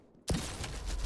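Rocket impact in a Quake Champions duel: one sharp burst hits abruptly after a quiet moment, followed by a dense, crackling wash of combat noise that holds at steady level.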